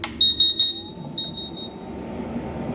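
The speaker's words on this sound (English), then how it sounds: "Yes, you can see the buzzer already got stopped." A CW 3000 industrial water chiller's buzzer alarm sounds as a loud, shrill electronic beep pulsing in a rapid rhythmic sequence, pausing briefly, resuming, then cutting off into a low hum of the unit.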